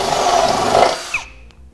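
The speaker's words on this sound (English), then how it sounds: "So same as last time, we'll just take our step bit." Step drill bit boring out a hole in the steel frame of a 2011 Subaru Forester during a trailer hitch install, a loud steady grinding whir for about a second before it stops and a faint clink follows.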